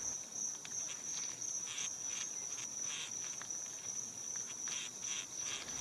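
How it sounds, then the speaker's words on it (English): A wasp stridulates or buzzes its wings in a faint, close series of short scratchy rasps and pulses over a steady high insect whine, with no voices. "the wasp is actually making this noise by stridulating parts of its abdomen"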